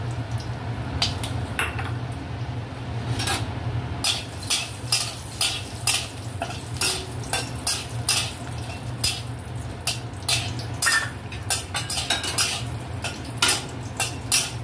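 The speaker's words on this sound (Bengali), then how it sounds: "বড়িটা ভেজে নিচ্ছি।" Lentil dumplings fry in oil in a wok, with a low sizzle under frequent sharp metal clinks and scrapes of a spatula stirring in a regular rhythm, close and fairly loud, no talking.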